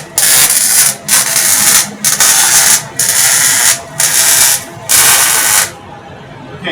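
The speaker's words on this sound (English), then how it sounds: "So now I'm going to quickly weld it up." Steel table frame being welded, a loud crackling, hissing arc running in about six bursts of roughly a second each with short gaps between, ending in silence.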